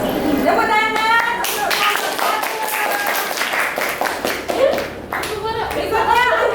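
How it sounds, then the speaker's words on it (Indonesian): A class group claps after finishing its presentation, a steady patter of many hands filling the room throughout, with some children's voices mixed in. "Tepuk tangan"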